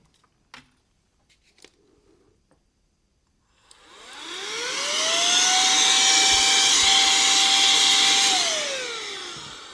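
After a few quiet clicks and taps while a mouse is taken apart, a small handheld air blower spins up and roars steadily for about five seconds, blasting dust off the mouse parts, then starts winding down; loud and close, no speech.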